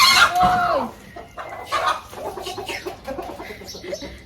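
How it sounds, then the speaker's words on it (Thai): Chickens cluck loudly and repeatedly nearby, with a rooster-like call at the start and scattered squawks throughout. "ไก่เสียงดังมากเลย"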